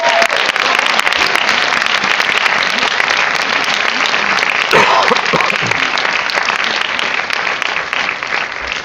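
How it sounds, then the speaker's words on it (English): Sustained applause from a film festival audience at an animated shorts screening, steady and loud throughout, with a brief murmur of voices near the middle. "Can I get a round of applause for all?"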